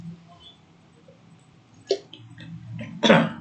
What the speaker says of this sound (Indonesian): Wah, ini kok banyak batuk nih.